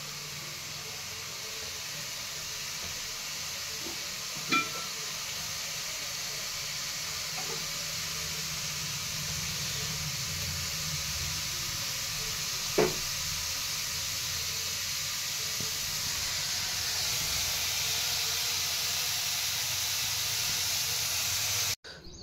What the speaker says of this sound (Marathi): पनीर थोडंसं फ्राय करून घ्यायचं आणि त्यामध्ये थोडंसं तेल टाकायचं